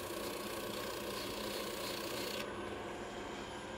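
Fine 220-grit sandpaper rubs briefly against the edge of a woodturning skew chisel, a steady, even, close-up raspy hiss that dulls slightly near the end, with no talking.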